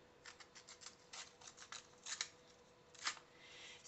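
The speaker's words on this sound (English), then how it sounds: "I'm going to rough up these strips real quick" Thin paper strips are roughed up in quick bursts of rustling and scraping, a dozen or so short strokes, close but quiet.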